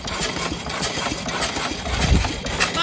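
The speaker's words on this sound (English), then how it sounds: "the sound of a good running engine" A 1901 Oldsmobile engine runs at a slow idle, steady low chugging with faint rhythmic knocks, close and fairly loud with no talking.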